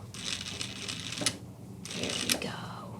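A sewing machine backstitches over existing stitching on a jeans waistband in two quick, rattling bursts of needle strokes with a short pause between them, close and fairly loud.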